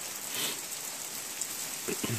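Rain patters steadily on a pavilion roof during an October hike at Kings Gap, a soft continuous hiss with a few louder drips near the end.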